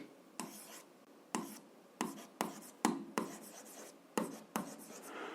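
Pen or pencil on paper while solving an algebra exercise: short scratchy strokes in irregular bursts, each starting with a soft tap, close and fairly quiet, with no voice over them.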